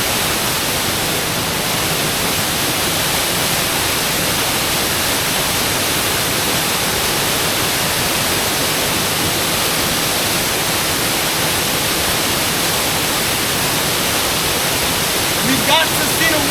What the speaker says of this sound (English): Got to see the waterfall today.